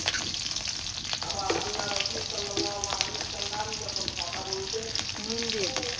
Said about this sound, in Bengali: ভাজি সরিষার তেল দিয়ে দিই শাকের মধ্যে একটু তেল বেশি দেওয়া লাগে